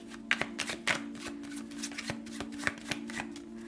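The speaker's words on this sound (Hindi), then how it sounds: "शफल कर लेते हैं कार्ड्स को ऑप्शन 3 के लिए" A deck of cards being shuffled up close, with a run of crisp riffling bursts and soft taps repeating for several seconds and no voices.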